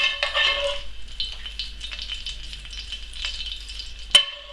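Mushrooms sizzle in a pan alongside pigeon breasts while a spoon bastes them, giving a steady crackle broken by soft scrapes, with a sharp metallic clink near the end.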